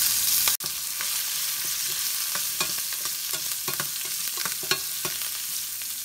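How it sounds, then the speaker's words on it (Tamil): Small onions sautéing in hot oil with asafoetida and curry leaves as a tempering for hotel-style sambar, giving a steady close sizzle and crackle broken by light stirring clicks and scrapes, with no talking. "சின்ன வெங்காயம் நல்லா வதக்குங்க."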